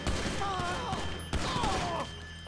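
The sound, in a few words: gunshots in the video game GTA 5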